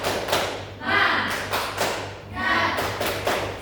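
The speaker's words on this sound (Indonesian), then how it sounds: "Kita tepuk semangat ya." A primary school class in Indonesia claps out a rhythmic spirit clap, with bursts of several sharp thuds and taps repeating in a pattern, close and fairly loud, alongside group chanting.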